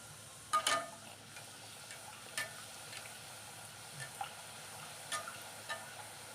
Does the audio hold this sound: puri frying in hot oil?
yes